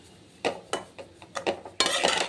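A metal spatula stirs a cabbage stir-fry with grated coconut in a pan after the heat is turned off. Half a dozen separate clanks and scrapes land close by, ending in a longer rattling scrape, with no talking.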